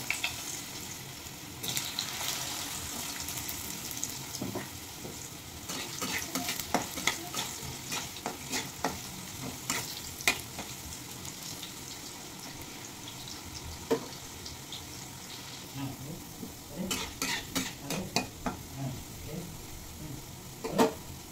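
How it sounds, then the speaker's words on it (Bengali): Potatoes and okra frying in oil previously used for frying fish, with a steady sizzle, intermittent stirring and spatula scrapes, and occasional louder bursts of clatter. "এখন প্রথমে ভেজে নেব আলু আর ঢ্যাঁড়স মানে ভেন্ডি"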